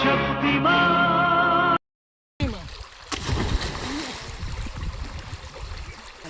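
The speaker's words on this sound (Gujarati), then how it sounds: "આ નાખ્યા આપણે સિક્કા પાણીમાં" A voice is heard briefly, then after a short silence a handful of coins thrown into canal water make sharp splashes and splatters, followed by lingering sloshing water.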